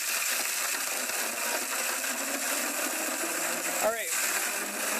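A Vitamix blender on its puree setting whirs steadily through a creamy lemon-garlic vegan Caesar dressing, a constant loud motor drone with a brief voice around the four-second mark.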